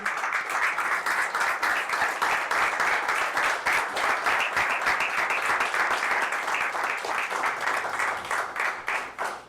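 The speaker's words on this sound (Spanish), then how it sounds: "Brindémosles un aplauso al Rey, amén." Steady, rhythmic applause from a church congregation, with claps falling in a fairly regular beat across the whole stretch at moderate loudness.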